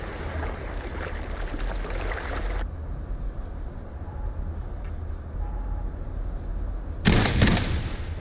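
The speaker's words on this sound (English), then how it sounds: "Gunfire!" A short, sharp burst of gunfire erupts near the end in the video game Wuthering Waves, cutting through a low, steady background rumble.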